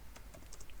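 Computer keyboard typing while writing CSS code, a handful of quick light key clicks, close and soft, over a steady background hiss.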